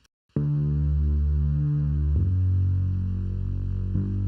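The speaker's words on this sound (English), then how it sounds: "We have a little bassy bass here." A thick, distorted synth bass plays sustained low notes, changing pitch twice, loud and alone with no other sounds.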